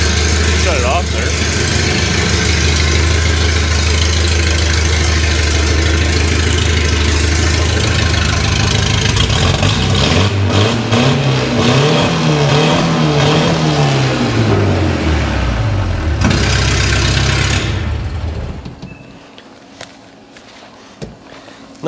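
The small engine of a Volvo P1800, parked for 25 years, runs steadily, rising and falling in pitch as it revs, with people talking over it, before it cuts off into quiet.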